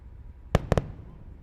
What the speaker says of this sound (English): the sound of the sonic booms just making their way to us here at the press site